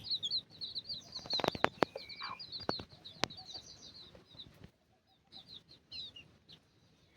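A free-range village hen wanders with six small chicks, the chicks cheeping in high rapid bursts while sharp close thumps and flapping sounds break in, then a quieter stretch before the peeping resumes.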